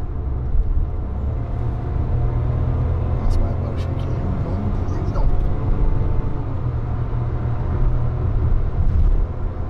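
A Chevrolet Onix 1.0 turbo with a power chip accelerates hard, its engine a loud, steady rumbling drone heard from inside the cabin, with people talking over it.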